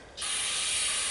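An aerosol can of brake cleaner sprays a steady, close hiss onto sticky residue during a 1952 Ferguson TO30 Continental Z129 engine rebuild, starting abruptly and running on without a break.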